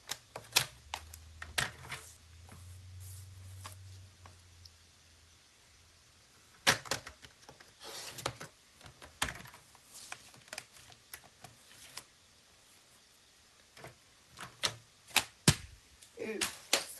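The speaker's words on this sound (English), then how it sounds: "And then we can just trim the edges off." Trimming the edges off a paper Valentine's Day card, sharp sparse clicks and snips scattered across a quiet room, with brief low rumbles and a knock near the microphone.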